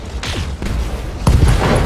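Turret gunfire in the mech game Battletech: a couple of heavy booming shots with rumbling echoes, loud and close, with no talking.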